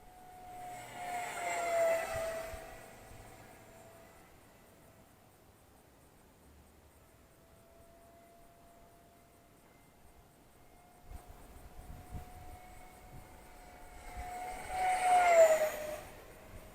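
An Eachine F18 50mm EDF RC jet kit on a full 4S battery whines past twice in flight, its high-pitched ducted-fan tone swelling loud on each close pass and fading to a faint distant hum between.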